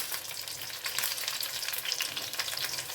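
Sausages for currywurst frying in oil in a pan, giving a dense, constant crackling sizzle with close spitting pops and no voices over it.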